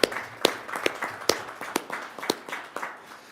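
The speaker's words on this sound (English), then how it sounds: "Round of applause, please." A small audience at a school board of education meeting claps to honor a teacher of the year, giving a short burst of brisk, fairly close hand claps with some sharp individual strikes standing out.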